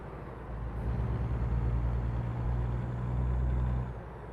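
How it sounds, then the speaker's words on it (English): Heavy truck engine straining uphill at about 40 mph in a heavy-haul trucking video game, a loud steady low drone with harmonic tones, holding constant and easing off near the end. "I hear your truck screaming for mercy for here."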